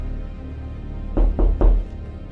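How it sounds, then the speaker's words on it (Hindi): Three firm knocks on a wooden door on a stormy night, evenly spaced and close, standing out alone against a quiet background. "तभी दरवाजे पर किसी ने दस्तक दी।"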